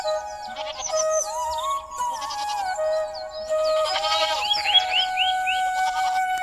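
Cartoon goats bleat in an animated scene, with several wavering cries layered over a sustained musical tone and bright chiming accents, moderately loud and without talk.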